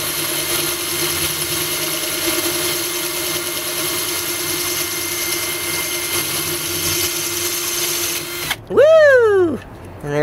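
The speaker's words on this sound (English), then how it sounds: "Now for a little hand drilling." A hand drill whirs steadily for several seconds at a constant pitch, then cuts out and a voice lets out a rising whoop.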